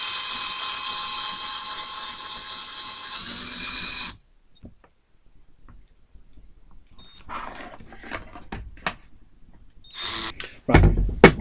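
A power drill bores holes in the plastic top rail of a CYMA AK CM.521C airsoft rifle. A steady whirring run is followed by quiet, then short, uneven bursts of drilling and clicks, with a louder grinding burst at the end.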